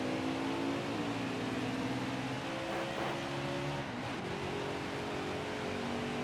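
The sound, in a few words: stock car engine accelerating in the video game NASCAR Heat 5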